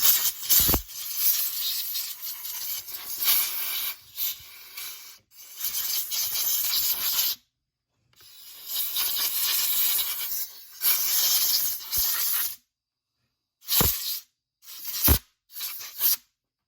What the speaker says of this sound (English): while you still have the air compressor out, I will just give another shot